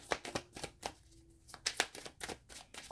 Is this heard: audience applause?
no